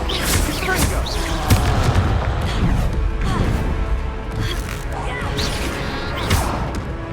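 Confringo fire spells blasting in Hogwarts Legacy, a run of booming, crashing impacts with whooshes, loud and continuous over game noise with speech-like sounds mixed in.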